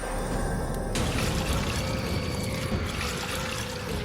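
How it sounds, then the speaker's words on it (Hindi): A steady rush of water splashing down as a story sound effect for a princess being drenched, continuous and close, with a faint tonal layer at the start that cuts off after about a second. "पानी गिर जाता है"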